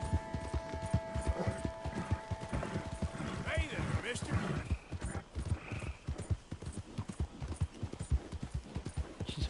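Rhythmic horse hooves clop steadily at close range, with a brief whinny and someone speaking over the trotting.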